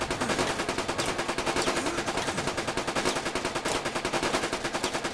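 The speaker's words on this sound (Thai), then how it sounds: "ฝึกยิงปืน" Rapid automatic gunfire in a military camp management video game rattles continuously in dense, evenly spaced bursts, loud and close, with no talking over it.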